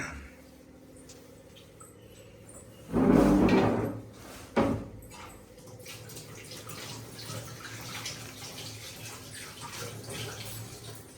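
Water from a tap runs while dishes are cleaned up after a meal at home, a short loud gush followed by a brief second burst, then quieter clatter and low household background.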